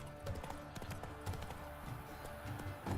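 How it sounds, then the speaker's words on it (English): Horse hooves clip-clopping in a modded video game, a quick irregular run of hoof thuds on the ground, fairly faint and close, with no voices over them. "Hoofs pounds the ground."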